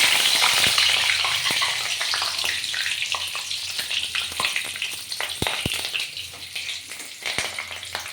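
Panch phoron, dried red chili and bay leaf sizzle loudly in hot oil in a pan, a dense continuous crackle dotted with sharp pops, steady throughout with stirring and no talking.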